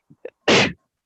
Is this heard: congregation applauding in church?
no